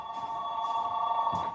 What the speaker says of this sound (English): Somebody's calling Grandpa's phone.